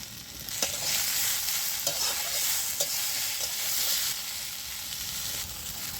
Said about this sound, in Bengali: এই সব উপকরণটা আমি ভালো করে কষিয়ে নেব